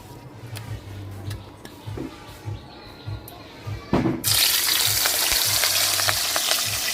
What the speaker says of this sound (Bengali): তেল গরম হয়ে গেছে এখন গোলমরিচ লবণ মাখানো মাছ দিয়া দিব